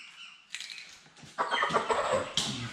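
A Cobb-500 broiler chicken being weighed clucks and squawks close by in short bursts, growing louder and more agitated, with a sudden rustle and sharp cry near the end.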